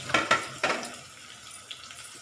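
Green chillies and onions drop into a hot pan, giving a few sharp crackling bursts and clatters, then a soft, quiet sizzle that settles under faint clinks.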